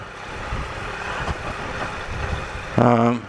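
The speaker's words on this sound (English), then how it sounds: "Just letting the revs pull the bike along, not applying any power at all, really." A Triumph Explorer motorcycle rolls along a byway at very low revs under no throttle, its engine a low, steady rumble, with a brief, louder tonal burst near the end.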